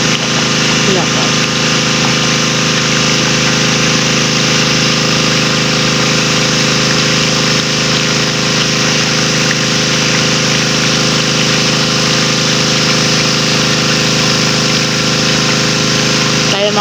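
A Robin engine runs steadily nearby, giving a loud continuous drone with a stable hum and no audible change in pace.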